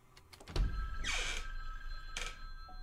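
Telephone ringing in a first-person horror video game, two bright bursts of ringing about a second apart over a low rumbling background, fairly loud and close.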